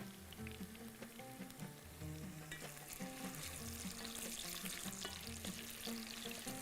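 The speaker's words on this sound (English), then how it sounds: "We're just going to fry it a little bit." Lentil mix for daal frying in a pot, a steady close crackling sizzle with scattered pops and stirring clatter, no talking.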